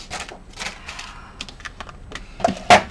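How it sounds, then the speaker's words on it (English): Scissors cutting through a cardstock file folder make a series of short, crisp snips and crunches close by, ending in a louder sharp cut. "let's take some more of our file folder here, and let's cut this again"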